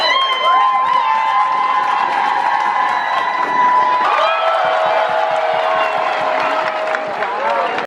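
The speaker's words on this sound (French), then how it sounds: "Sont suivis par des salves d'applaudissements et des paroles d'encouragement." A crowd at the closing ceremony of a bilingualism week in Cameroon cheers and shouts loudly and continuously, with whoops and sustained voices and some clapping underneath, filling the whole stretch.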